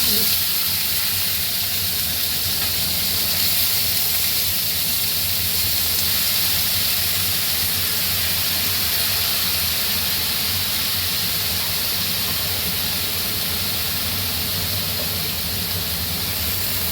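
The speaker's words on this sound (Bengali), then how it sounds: "এবার আমি সবজি কাটা দিয়ে দেব" Chopped papaya, potato, eggplant, tomato, capsicum and jackfruit seeds hitting hot oil tempered with five-spice, dry red chilli and bay leaf, giving a steady, loud sizzle and hiss that runs unbroken throughout.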